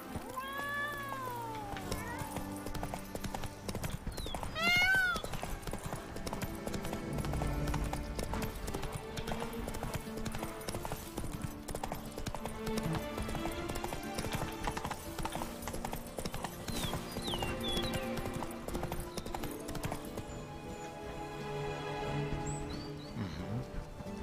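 Roach the horse's hooves clip-clopping in the video game The Witcher 3, a steady rhythmic trot running the whole way under game music, with cat meows and a brief whinny mixed in.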